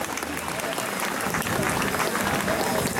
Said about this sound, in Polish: Brawa dla nich olbrzymie.